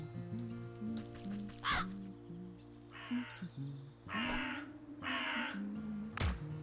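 Crows caw in Wytchwood, a handful of harsh calls spaced across the scene over steady game music, one loud close caw near the end.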